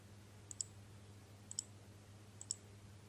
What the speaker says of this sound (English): you can hold down the Ctrl key while you click on each file with the mouse